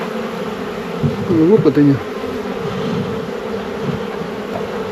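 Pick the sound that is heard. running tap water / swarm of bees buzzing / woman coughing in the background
swarm of bees buzzing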